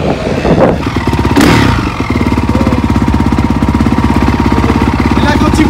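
A motocross bike's engine runs at a beach cross race in Berck, sustaining a loud, steady, buzzing drone with a harsh rev burst near the start, close by and dominating the scene.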